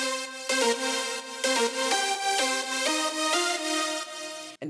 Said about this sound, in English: So the full lead synth sound like this.